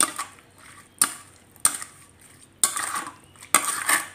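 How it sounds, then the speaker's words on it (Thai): Spoon clinks against a bowl while mixing a Thai fermented pork sausage salad with pickled sweet garlic, sugar and seasoning powder: about five sharp, close metallic taps at irregular intervals, with soft scraping in between. "จากนั้นนะคะคนส่วนผสมให้เข้ากันนะคะ"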